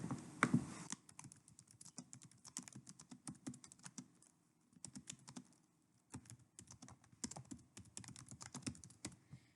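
Computer keyboard typing in bursts of quick clicks with short pauses, close and fairly quiet, with no talking, as a meeting link is entered.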